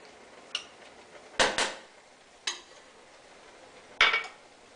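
Spoon knocking and scraping against a pot of hunter's stew with dry red wine and tomato paste, a few separate clinks and scrapes spaced over several seconds, close and fairly quiet.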